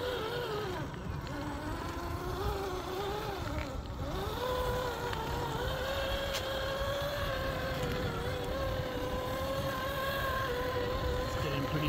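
A Redcat FCX10 RC crawler truck pushes through sloppy mud, its small electric motor giving a faint, steady whine that wavers in pitch as it strains, with a soft background hiss.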